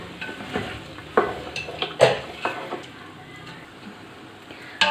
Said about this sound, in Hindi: अब इसको हम रोस्ट करेंगे इसके अंदर थोड़ी देर।